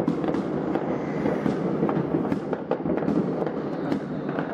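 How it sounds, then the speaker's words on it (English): New Year fireworks bursting outdoors in Mijdrecht, a dense, continuous barrage of loud crackling explosions with overlapping booms and no pauses. "see if there's more nice fireworks."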